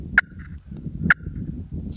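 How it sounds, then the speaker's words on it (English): Two sharp, short clucks are struck on a turkey slate call with a striker, spaced about a second apart, crisp and close over faint low background noise. "Just short clucks."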